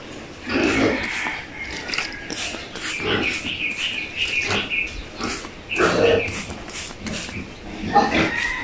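Pigs on a farm grunt and squeal in repeated short bursts close by, with some shuffling and a voice talking intermittently among them.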